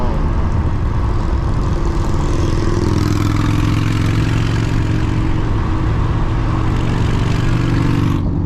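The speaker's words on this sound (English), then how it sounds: "I don't like them loud ass motorcycles, man. That shit sound nasty." A loud, steady motorcycle engine roar on a highway drones continuously for several seconds with heavy low rumble and broadband noise, then cuts off abruptly at the end.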